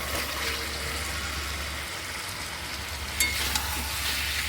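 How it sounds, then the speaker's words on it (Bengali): Potato and cauliflower pieces frying in onion-ginger spice paste, a steady broadband sizzle running throughout with a few brief clinks of a utensil near the end. "তার মধ্যে একে একে আলু আর ফুলকপি ভাজাটা দিয়ে দেবো"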